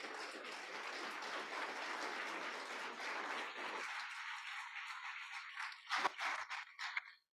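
An audience gives a speaker a round of applause at an evening author event: dense, steady clapping from many hands for about four seconds, then thinning to a few scattered, closer claps before ending.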